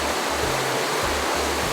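California's Kern River rushing and churning white along a narrowing channel, a dense, steady roar of water, loud and continuous with a faint low rumble beneath.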